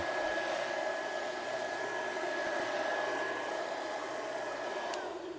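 A motorized garden sprayer blower cannon runs with a steady, loud mechanical whine and rushing air. It holds one continuous tone and then begins to wind down near the end.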